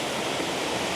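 A waterfall at Ball's Falls in Lincoln, Ontario gives a steady, dense roar of rushing water that holds even and unbroken throughout, with no voices.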